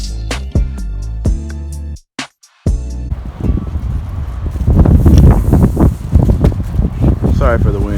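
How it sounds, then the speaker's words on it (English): Strong outdoor wind buffets the microphone in gusty, rumbling bursts, most intense in the second half, after a brief silence, with faint voices mixed underneath. "It's real windy out here."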